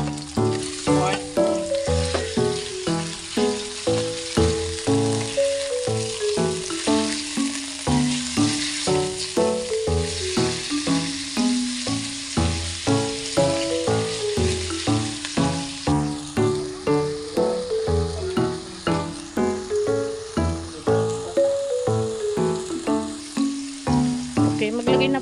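Pork sizzling with onions in a hot pan, pork liver and intestine dish being cooked, a continuous close frying hiss broken by regular rhythmic scraping strokes of stirring throughout.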